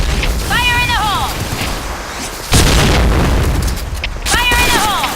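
A single loud grenade blast booms midway through a burst of Insurgency: Sandstorm gameplay, with a shouted voice calling out just before and again after amid constant battle noise.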